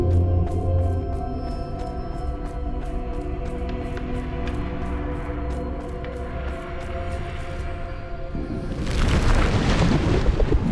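A Bombarda blasting spell explodes in the Hogwarts Legacy video game, a sudden loud, broad blast arriving near the end after a long stretch of sustained tonal game music.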